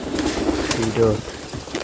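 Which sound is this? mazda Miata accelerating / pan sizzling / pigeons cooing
pigeons cooing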